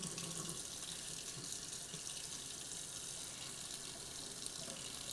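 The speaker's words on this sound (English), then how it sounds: "And then I'm going to use very hot tap water in my 4th glass." Very hot tap water runs steadily from a faucet into a glass, a constant close hiss and splash with no pauses.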